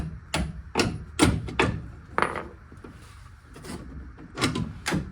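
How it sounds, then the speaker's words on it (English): Sharp metallic taps of a hammer striking a bolt on a Dodge Ram control arm, about a dozen close, loud knocks in irregular bursts with short pauses between. "Tap it with the hammer."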